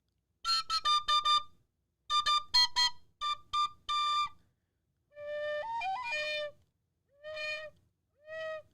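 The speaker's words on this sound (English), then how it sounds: "I'll give you a little taste of the tin whistle" A tin whistle plays in a tavern in the game Kingdom Come Deliverance, a clumsy tune of short clear piping notes in bursts with pauses, one longer wavering note near the end.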